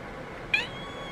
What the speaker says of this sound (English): She won't stop meowing.